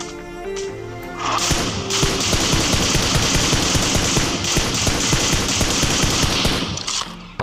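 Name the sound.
gunfire in video game PUBG Mobile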